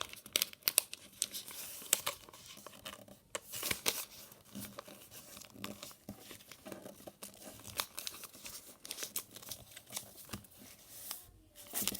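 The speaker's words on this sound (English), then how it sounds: "And then fold on the crease that you made." Sheet of origami paper being folded along an existing crease, with close, quiet crinkling and crisp rustling bursts in an irregular sequence.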